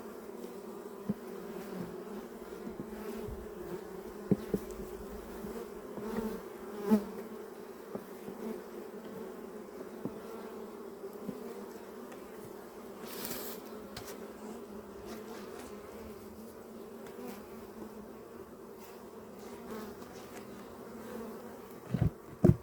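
Honey bees buzz steadily around an open hive during an inspection, a low sustained drone with occasional clicks and handling knocks, no talking.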